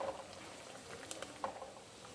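Curry paste for Kerala pulissery, cooked with cucumber, simmers in a pot, making faint soft bubbling and a few small pops close by.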